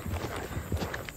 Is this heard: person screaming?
no